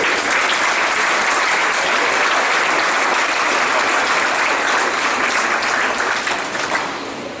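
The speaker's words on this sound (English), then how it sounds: "you'll give them a big round of applause" Graduation ceremony audience giving a big round of applause, loud dense clapping sustained throughout before tapering slightly at the end.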